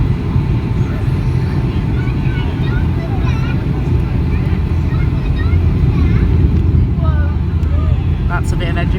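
A TUI Boeing 757-200 landing in strong wind, its engines giving a loud sustained roar of thrust under heavy rumbling wind buffeting that continues steadily throughout.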